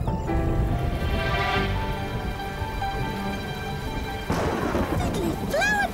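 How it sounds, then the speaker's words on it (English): Rain and a thunder rumble in a children's animated cartoon play as a steady hiss with a loud crash partway through, under a musical score, with cartoon characters talking and a brief whistling effect at the end. "It's raining!"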